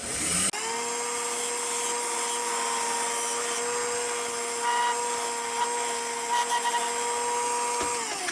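A lathe spins up abruptly and runs steadily while a spindle gouge works yew, a loud close whirring hum with light scraping of the tool against the wood until the machine winds down.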